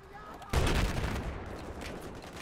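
Gunfire from a Battlefield 4 multiplayer match on PS4: a sudden loud burst of shots, then a sustained rumbling clatter of battle that stays fairly dense to the end.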